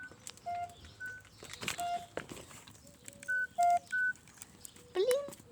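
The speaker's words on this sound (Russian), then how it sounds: "наступил на телефон" Phone keypad tones sound when someone steps on a mobile phone beside a campfire built with pine cones. Several short, clear beeps of different pitches come at irregular intervals over crackling and footstep noise outdoors.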